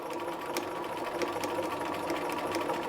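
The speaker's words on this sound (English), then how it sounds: "So I'm just going to start sewing, and I'm going to sew all the way around my garment." A sewing machine runs steadily, stitching around the hem of a garment made from a Butterick 4498 pattern, with a continuous close whirring and a faint rhythmic needle tick and no talking.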